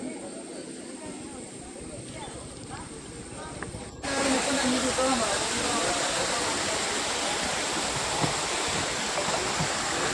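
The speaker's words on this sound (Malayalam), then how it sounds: "വളരെ ശക്തിയായിട്ട് തന്നെയാണ് അരുവി ഒഴുകുന്നത്" A stream surges strongly beneath a Kerala temple sanctum, giving a dense, continuous rushing roar that jumps sharply louder partway through and then holds steady and close.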